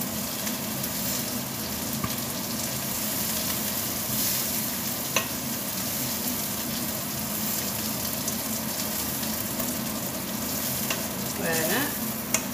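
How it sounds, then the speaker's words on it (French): Beef meatballs sizzle in a pan of frying potatoes for a goulash-style dish, a dense steady crackle and hiss throughout with occasional stirring scrapes, close and without talk. "Donc je vais y ajouter mes boulettes de viande."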